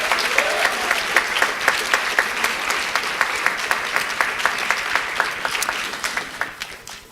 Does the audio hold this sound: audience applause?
yes